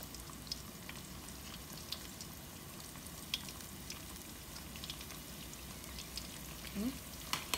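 A ground beef stuffed paratha cooks on a pan over medium-low heat, giving a soft, faint, even sizzle with small pops and light taps throughout, a brief scrape near the end.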